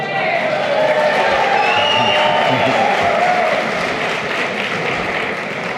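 An audience claps and cheers at a tribute evening, a continuous wash of applause with murmuring voices mixed in, sustained at an even level throughout.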